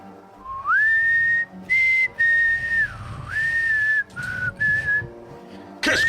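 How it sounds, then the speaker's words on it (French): A clear, loud whistled melody carried by a single human whistler, gliding between sustained notes in several phrases separated by short pauses, heard alone without talk. "tu te rappelles aussi une espèce de mélodie qui siffle."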